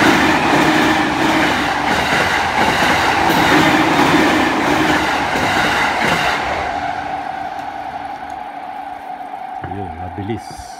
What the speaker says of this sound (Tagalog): Kita natin ang tren kung paano dumaan.